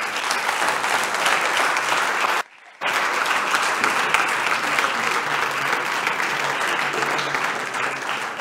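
Sustained audience applause at a forest agreements conference, dense even clapping with a brief cut to near silence, then resuming at full strength.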